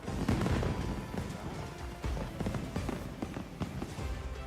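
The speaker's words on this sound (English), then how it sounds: "fireworks" Fireworks in the video game Monster Hunter Wilds crackle and boom in dense, continuous bursts of loud pops and rumbling blasts at a summer festival, sounding close and full.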